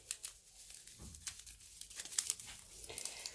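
A small plastic packet of stevia sweetener is torn and crinkled open in a kitchen, giving quiet, close rustling and a brief tearing crackle amid faint room noise, with no talking.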